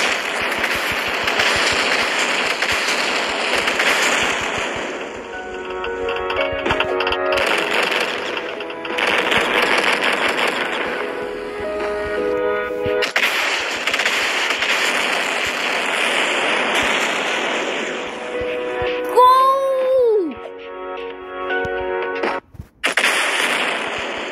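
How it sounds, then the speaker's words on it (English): An earthquake shakes a bridge in a video game, giving a loud, sustained rumbling roar layered with droning tones that swell and fade, then sweeping tonal effects near the end. "Oh, it's an earthquake."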